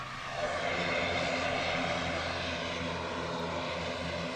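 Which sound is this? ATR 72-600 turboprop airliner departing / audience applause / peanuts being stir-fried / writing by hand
ATR 72-600 turboprop airliner departing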